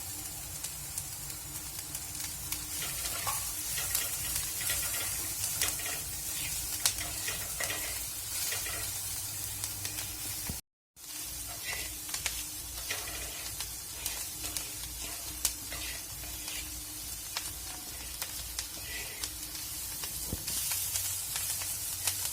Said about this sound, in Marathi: मिरची चांगली भाजलेली आहे